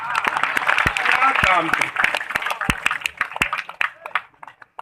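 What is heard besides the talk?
audience clapping at a religious discourse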